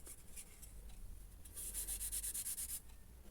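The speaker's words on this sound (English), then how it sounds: "It's just quicker with a power sander." Power sander working over a piece of old pallet wood, a steady close abrasive whir with a brighter pulsing buzz midway, heard alone without talk.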